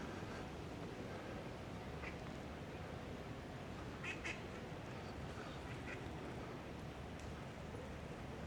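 Ducks quacking in St James's Park, London, a few faint calls scattered through steady outdoor background noise.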